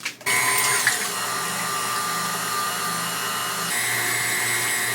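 A KitchenAid stand mixer whisks on medium speed for challah dough, starting abruptly and then running as a steady, close, loud motor drone with a high whine, and no talking.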